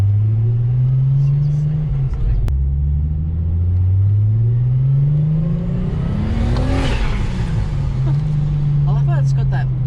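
A tuned 570 hp Nissan Skyline R34 engine revs up and down repeatedly with a raspy, rising and falling roar, loud and close, with a brief higher whine mid-rev.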